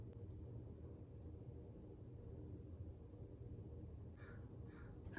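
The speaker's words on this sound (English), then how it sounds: "The crows are here." Several crows caw faintly in the distance over a steady low rumble of background noise, the calls clustering briefly near the end.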